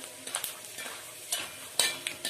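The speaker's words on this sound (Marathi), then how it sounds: "मीडियम गॅसवर लाल करायचे शेंगदाणे।" Peanuts roast in a pan over a medium gas flame for murmura chivda, stirred with a spoon in soft scraping, rattling strokes over a faint sizzle, fairly quiet and close.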